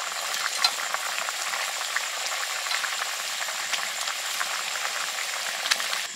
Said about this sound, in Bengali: ঝোল ফুটে গেছে, এবার মাছগুলো দিয়ে দিই।